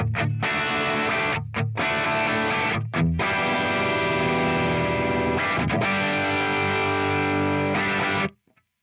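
Heavily distorted electric guitar played through an oversized Mesa Boogie cabinet simulation, loud and dense with chugging chords broken by short stops, then ending abruptly.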